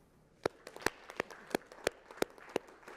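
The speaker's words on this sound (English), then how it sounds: "Just a round of applause for her" Sparse claps from a small audience at a medical panel on automation and artificial intelligence, about eight sharp separate hand claps spaced irregularly over a quiet room, moderately close and without talk.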